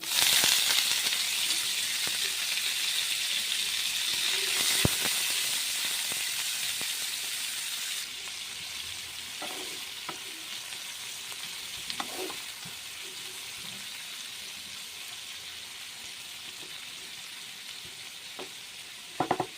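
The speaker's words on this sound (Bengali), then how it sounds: "তারপর আমি পেঁয়াজ দেবো। পেঁয়াজ দিয়ে দিচ্ছি।" Onions sizzle and crackle steadily in hot oil, a loud hiss at first that gradually softens, with occasional clinks and stirring scrapes.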